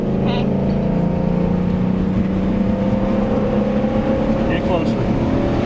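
A race car in a racing game accelerates as a loud, steady engine drone with a sustained pitch that holds throughout, close and constant, with faint tonal blips over it.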